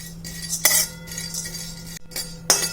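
Dal is stirred in a metal pan while it roasts, giving sparse clinks and scrapes of a spoon against the pan with quiet gaps between them.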